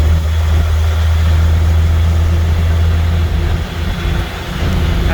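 An International S1900 dump truck engine runs in fourth gear, a loud, steady low rumble and drone with a slight dip in the middle.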